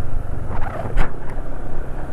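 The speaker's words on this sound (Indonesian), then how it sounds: "Ini suara mesinnya sendiri halus, termasuk keseluruhan ya." A smooth-running Yamaha motorcycle engine on Yamalube XP oil idles close by as a steady low rumble, with a brief swell near the middle and no talk.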